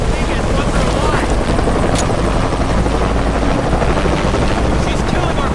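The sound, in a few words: helicopter in the video game Shadow of the Tomb Raider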